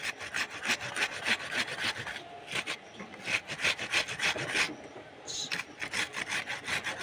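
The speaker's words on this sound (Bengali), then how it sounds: "এইভাবে পুরোপুরি পেঁয়াজটাও ঘষে নেব।" An onion is rubbed against a grater for a shrimp curry. The rasping strokes come close and loud in a steady back-and-forth rhythm, with brief pauses between runs.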